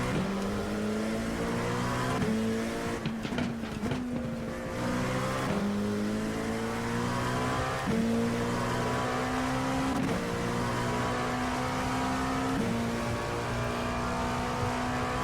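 An iRacing race car lapping The Bend Motorsport Park, its engine droning loud and close. The pitch rises through each gear and drops sharply at every shift, with brief lifts and a few rapid downshifts midway.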